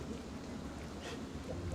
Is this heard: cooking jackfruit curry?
no